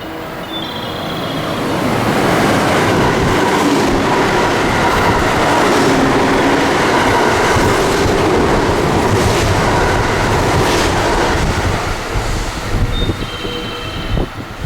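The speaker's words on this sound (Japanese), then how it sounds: "3番乗り場を電車が通過します。" A train on the JR West Biwako Line passes through platform 3 of a station without stopping, rumbling steadily at close range, wheels clattering loudly on the rails for several seconds before the noise begins to ease.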